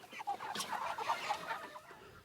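Chickens cluck close by in a small flock, a run of short, busy clucks and calls at low volume over quiet farm surroundings.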